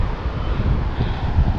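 Strong wind gusts buffet the microphone on a white-sand beach, a loud continuous low rumble with no voices.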